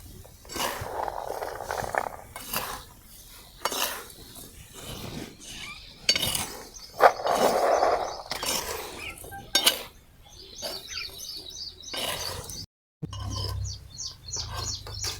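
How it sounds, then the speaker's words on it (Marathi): Peanuts dropped into hot salt in a small kadhai and stirred, giving scattered gritty scrapes and rattling clinks with short bursts, a brief silent gap near the end, then a low rumble with faint high chirps. "मीठ तापलेलं आहे आणि त्यामध्ये आपल्याला आता शेंगदाणे टाकायचे आहे"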